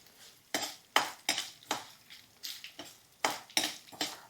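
Coconut pieces and beetroot stirred in a frying pan for chutney, a spoon clinking and scraping against the pan in a steady series of sharp strokes, close and fairly quiet, with no talking.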